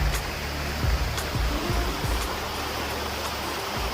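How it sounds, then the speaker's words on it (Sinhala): Water of the Ra Ella waterfall flowing and rushing steadily, a broad continuous roar with low rumble throughout, close and fairly loud, with no voices. "මෙතනින් තමයි වතුර ටික ගලාගෙන යන්නේ."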